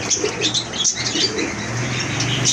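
A pair of bright red velvet seal pigeons flaps its wings in rapid, fluttering bursts while being handled up close, with a steady bird-room background hum.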